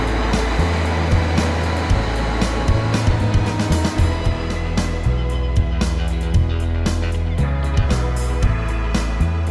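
A Rotochopper in-line grinder powering down at shutdown gives a loud, close, heavy machine drone with shifting engine tones and scattered clanks, running continuously throughout.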